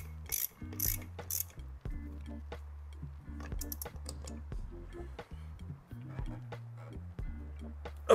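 Ratchet tightening a bolt during a Peugeot restoration, a quiet run of short clicking, ratcheting strokes in bursts with small metallic knocks between them.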